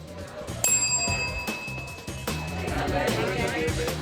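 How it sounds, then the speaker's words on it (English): A bright bell rings once, clear and near, to mark time running out in a speed-dating experiment, its tone hanging for about a second while people talk around it. "When the time is up, the bell will ring"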